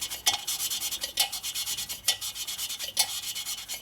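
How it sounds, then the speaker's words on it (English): Valve seat lapping with lapping compound on a 1942 Harley-Davidson XA 45ci military flathead: a steady dry scraping rub with sharp chattering strokes recurring about once a second, close and fairly loud, no voices. "Now it chatters until it gets lapping compound all the way around."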